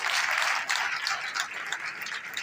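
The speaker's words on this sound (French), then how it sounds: "Ça peut s'applaudir quand même." Faint, steady audience applause rises and falls at an awards ceremony, a soft, continuous wash of clapping heard from a distance with no talk over it.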